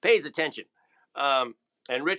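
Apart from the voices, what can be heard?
No everyday noises stand out.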